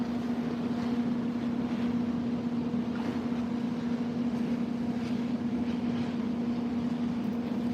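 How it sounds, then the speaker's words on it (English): Steady rushing water against the hull of the Celebrity Xcel cruise ship under way at sea, heard through an open window as a continuous wash with a constant low engine hum beneath. "Hearing the water as we move through the ocean, waves crashing up against the ship."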